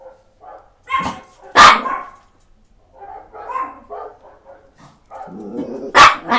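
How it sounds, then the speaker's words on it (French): A neighbouring dog barks in sharp, loud bursts with yips and whimpery sounds between them, heard alone with no talk. "Le chien à côté qui aboie."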